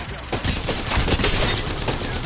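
Gunfire in the battle royale game Apex Legends: a loud, continuous run of close rapid shots that keeps going for the whole stretch.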